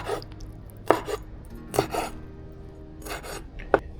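Knife chopping ingredients for a shrimp dish during a catch-and-cook beside the surf, with several sharp, close cuts and scraping strokes at an uneven pace.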